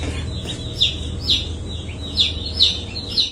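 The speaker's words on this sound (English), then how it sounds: "only to hear faint chirping from her kitchen" Newly hatched chicks in a kitchen give high, thin peeping chirps, about five spaced calls over a low background hum, fairly close and with no talking.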